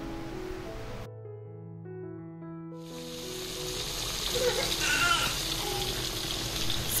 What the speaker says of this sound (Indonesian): Masukkan ikan lele yang udah kita marinasi satu persatu, kemudian kita goreng hingga berwarna kuning kecoklatan